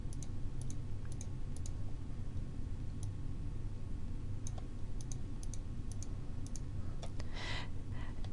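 Scattered computer mouse clicks as quilt blocks are rotated in Electric Quilt design software, light isolated taps at irregular intervals over a quiet background hum.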